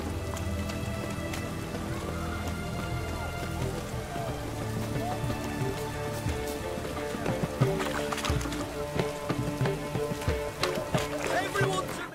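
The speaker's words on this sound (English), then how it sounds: "Looks like rain." Rain falling in The Witcher 3: Wild Hunt, a steady dense patter of drops spread through a game soundscape with low rumbling ambience and a few louder knocks near the end.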